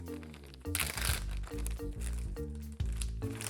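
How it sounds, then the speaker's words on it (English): Chicken strips shaken in Cajun coating inside a Ziploc bag, giving loud crinkling and crunching plastic rustles in uneven bursts, close up with no speech. "We're just making the coating, shaking the chicken strips in it"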